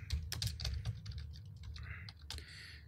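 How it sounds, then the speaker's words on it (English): Rapid typing on a computer keyboard, a flurry of close, crisp key clicks with uneven rhythm, some sharper strokes standing out, over a low room hum. "my typing is still top notch"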